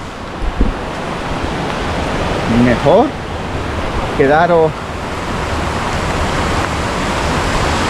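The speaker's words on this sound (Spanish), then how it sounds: "aquí en la primera poza, la primera cascada" Water from the first waterfall pours into a pool on the Genal river, a loud, steady rushing roar throughout, with a person speaking briefly over it.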